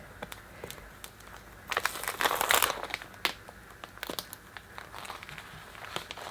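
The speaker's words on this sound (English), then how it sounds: "I'm going to go ahead and pull up my stencil now" A stencil is peeled up from an art journal page, making quiet crinkling and tearing rustles in short bursts with a louder crackly patch in the middle. The sounds come close and sparse.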